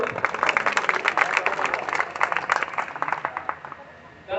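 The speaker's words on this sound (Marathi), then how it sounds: "सगळे जोरदार टाळ्या वाजवायच्या." A village school inauguration audience claps in a dense, lively burst that thins toward the end, with a voice briefly heard over it.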